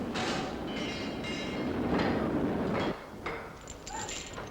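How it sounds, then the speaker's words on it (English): A London Underground materials train pulls away through an old tunnel during 1960s Victoria Line construction, with a loud, steady rumble of wheels and motors and a brief high squeal near the end. "when the first materials train was full, it was moved away through the old tunnel"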